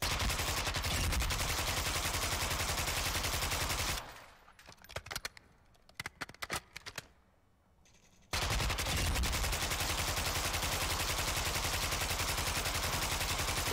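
Sustained automatic gunfire in Modern Warfare II DMZ: a rapid, loud, evenly spaced stream of shots fills the first stretch, breaks into scattered single shots and a quiet gap, then resumes as another long continuous burst.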